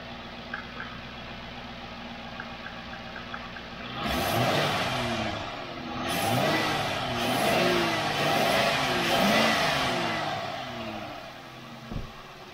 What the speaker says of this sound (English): I'm gonna go ahead and give it some gas.